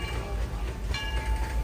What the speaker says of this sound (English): Oh, the train's coming in.